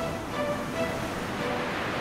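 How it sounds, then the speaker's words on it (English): Winter waves batter the wild North Norfolk coast in a steady, broad roar of surf with wind noise, continuous and fairly loud, and no voices. "With the waves travelling over such huge distances, massive amounts of energy built up over many hours are dissipated on the beaches of North Norfolk."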